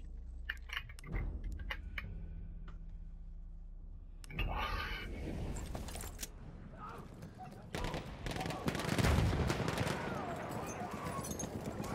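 Automatic gunfire from the trench sweeper gun in Battlefield 1, sounding in bursts of rapid shots that build and grow louder and denser toward the end, mixed with game noise and talk.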